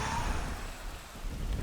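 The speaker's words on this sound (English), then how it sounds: "By the way, let's do Freezing Rain." Freezing Rain spell in the Lord of the Rings Battle for Middle-earth strategy game: a steady, dense wash of rainfall with a low rumbling undertone, continuous and moderately loud throughout, with no voices.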